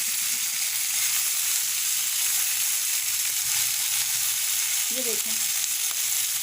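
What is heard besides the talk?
chicken with garlic ginger paste frying on high heat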